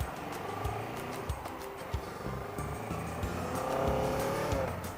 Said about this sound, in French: le moteur il ronronne